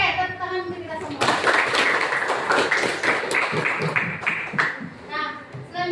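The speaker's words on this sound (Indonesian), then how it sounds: "Oke, tepuk tangan untuk kita semua." A group applauds for about five seconds, a dense burst of hand clapping that starts abruptly after a brief voice and fades near the end, with children's voices mixed in during a school coaching session.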